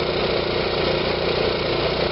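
An RV generator engine runs steadily under full load after a carburetor cleaning, a close, loud, even mechanical drone with a low rhythmic throb and no talking.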